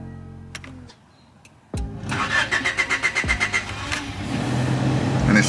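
A Honda Civic EG with a push-start button is started. A click comes first, then a short pause. The starter cranks in a quick pulsing rhythm, and the engine catches and settles into a steady, close idle.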